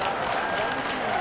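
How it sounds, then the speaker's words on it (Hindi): A brief burst of audience clapping on a quiz show, a dense and steady wash of applause with crowd noise. "तालियां बजाएं"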